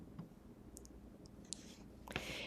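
A few faint, sharp computer mouse clicks sound close in a quiet room, spaced irregularly, with a brighter click near the end.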